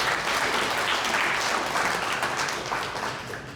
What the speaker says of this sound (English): So give John a round of applause too.